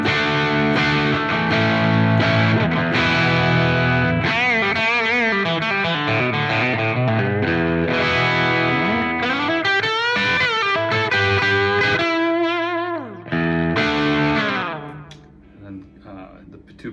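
Distorted Telecaster electric guitar on the bridge pickup alone plays a bright, biting lead with bends and vibrato, then fades to a ringing note at the close.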